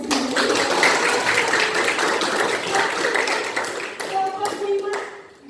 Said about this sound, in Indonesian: Tepuk tangan karena hanya sendiri.